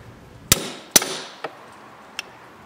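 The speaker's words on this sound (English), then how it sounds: "I can hammer on top of the extension now." A hammer strikes a socket extension while fitting a Neuspeed short shifter in a VW Golf R MK6: two loud sharp metallic blows, then two lighter taps, spaced irregularly and close up.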